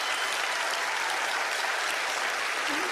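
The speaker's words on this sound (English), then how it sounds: "Give him a big round of applause." Steady, dense audience applause from a crowd at a magic-competition TV show, sustained and even throughout at moderate loudness with no talk.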